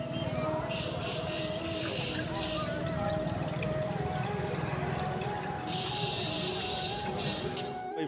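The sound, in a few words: water being poured into a truck radiator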